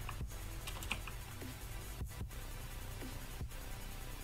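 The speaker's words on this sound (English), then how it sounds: "I was just typing random things" Keys clack on a computer keyboard in quick irregular bursts, with a few pauses between groups of taps, close and fairly quiet with no talking.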